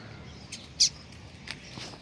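A female double-collared seedeater gives a short, sharp call near the middle, with a few fainter chirps around it over quiet background hiss.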